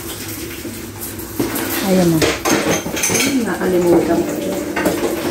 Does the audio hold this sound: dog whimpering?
no